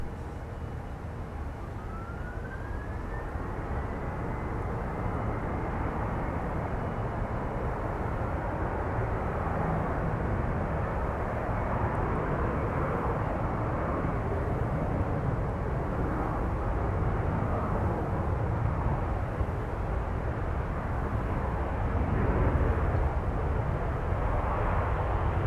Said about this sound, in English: The Airbus just rolling out.